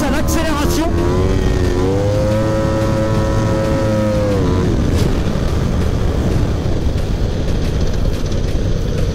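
A drift car accelerates into a slide on a track, its engine note climbing in steady revving pitch before breaking into a loud, rough roar with tire and wind noise.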